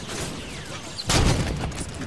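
Gunfire bursts loudly in Halo 5 Guardians combat, a dense wash of shots and impacts that swells midway over a noisy battlefield din.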